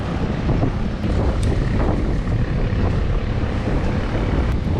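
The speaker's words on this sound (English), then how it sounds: "Ooh, wind is blowing nicely." Steady wind roaring across the microphone outdoors during a fir tree removal, a loud continuous rush with no break and no talk.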